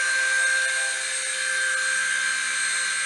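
A V922 remote-control helicopter hovers nearby, its small motor and rotor giving a steady high-pitched whine with a constant tonal hum and no voices.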